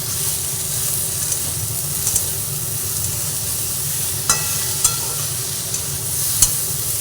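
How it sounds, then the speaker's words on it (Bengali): Katla fish pieces and eggplant frying in oil with salt added, a continuous loud sizzle and hiss underneath occasional light scrapes and taps of a spatula stirring the pan. "সব দিয়ে আবার ভালো করে ভেজে নিচ্ছি"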